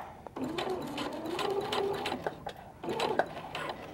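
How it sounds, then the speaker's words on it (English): A sewing machine stitches a welt pocket, running in short close bursts with a brief stop and pivot between lines of stitching. "I'm going to pivot and connect to my first line of stitching."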